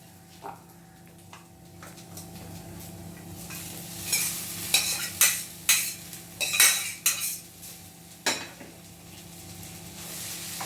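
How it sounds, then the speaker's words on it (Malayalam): A utensil scrapes and clinks against a pan in a series of stirring strokes while sprouted moong beans are cooked, with a faint sizzle underneath and a steady background hum. "ഇതിട്ടിട്ട് നന്നായിട്ടൊന്ന് ഇളക്കുക"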